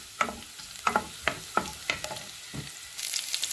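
Garlic frying in a pan for chicken lasagne, with a steady light sizzle under several sharp scraping stir strokes at a close, moderate level.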